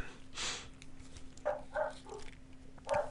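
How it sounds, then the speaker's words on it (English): Several dogs bark in short separate bursts, a few yips and woofs spaced across a few seconds over a faint steady hum, moderately close with no talking. "Oh, dogs."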